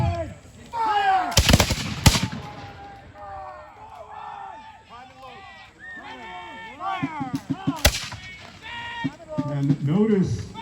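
Reenactors at a battle fire musket volleys, with two sharp massed bursts near the start and another about two-thirds through, while shouted commands and crowd voices carry on throughout.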